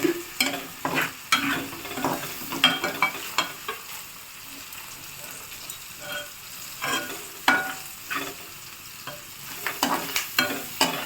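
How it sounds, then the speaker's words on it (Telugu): Curry leaves sizzling in hot oil for a tempering, stirred in bursts: clusters of quick scraping strokes over a constant frying hiss, with a quieter stretch midway before the stirring picks up again, close and without talking. "కరివేపాకు వేసుకుందాం ఫ్రెండ్స్"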